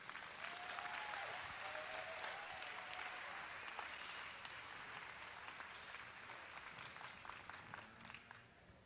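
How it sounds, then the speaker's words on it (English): Crowd applause at a 4-H county fair dairy show after the Master Showman class: sustained, even clapping from many people, somewhat distant and faint, with a few brief voices and whistles mixed in early. "I want you guys to give all of them a good round of applause"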